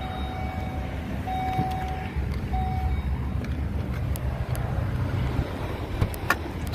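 A 2010 Volvo S80 with the 3.2 engine idles steadily, a continuous low rumble with faint wind noise over the microphone and a few brief ticks on top.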